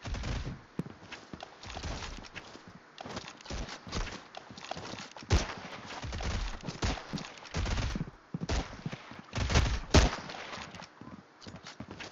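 Gunfire in a video game comes in rapid bursts of loud sharp shots over busy in-game noise, with scattered impacts and movement sounds throughout.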